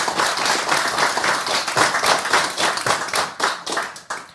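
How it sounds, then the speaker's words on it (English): Steady hand clapping from a small group, dense and continuous with uneven rhythm, swelling and fading in waves over a few seconds with no talking. "who's clapping in this?"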